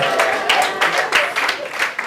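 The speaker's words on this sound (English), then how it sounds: "Let's give Mama Lou a big round of applause." A crowd at a real estate event for African women claps in a short burst of applause, dense and fairly loud, with a voice over it.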